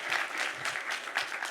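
Conference panel audience applauding briefly: dense, steady clapping from a crowd, moderately loud, with a faint voice underneath.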